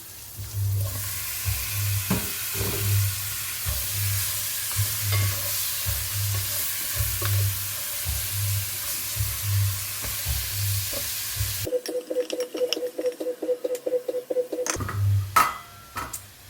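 Chicken sizzles and fries in a pan with a steady, rhythmic stir-scraping for a long stretch, followed by a quick run of sharp ticking pulses near the end.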